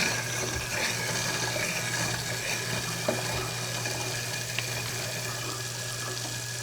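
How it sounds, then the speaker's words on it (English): Tap water runs steadily into a kitchen sink garbage disposal after it has been unjammed, a continuous moderate splashing flow with a low hum underneath and no voices. "Just remember to run plenty of water"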